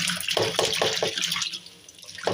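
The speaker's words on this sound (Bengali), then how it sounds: "এই আলুগুলো ধোবো, এইখানে আলু, এইখানে আলু, পুরো বালি তো, এগুলো ধুতে হবে" Tap water running to wash sandy potatoes: a near, steady rush of water with splashy pulses as it hits the potatoes, easing briefly before picking up again at the end.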